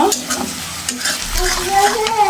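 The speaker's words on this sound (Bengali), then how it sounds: "এই যে পেটিগুলা ভেজে নিচ্ছি" Fish steaks sizzling and being turned in a pan of hot oil with onions, a steady close frying crackle broken by a few stirring scrapes.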